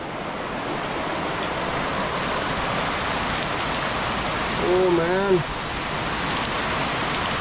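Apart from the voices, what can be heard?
heavy rain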